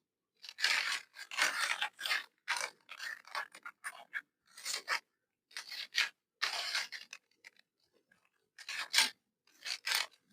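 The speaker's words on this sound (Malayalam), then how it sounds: "നമുക്ക് ഈ വരച്ചതിനെ നമ്മളൊന്ന് കട്ട് ചെയ്തെടുക്കുന്നു" Scissors cut along a drawn line on sewing material, giving a run of short, close rasping snips in uneven bursts separated by brief pauses.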